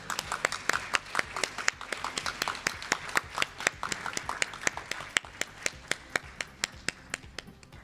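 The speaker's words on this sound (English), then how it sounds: "Let's greet them with a big round of applause." Sparse applause at a panel discussion as panelists take the stage, a handful of individual claps ringing out in a steady, fairly quick rhythm, distinct and moderately close, with a softer patter between them.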